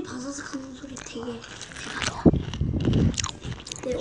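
Crunchy Cheetos cheese snack being bitten and chewed up close, with crisp crackling bites under people talking.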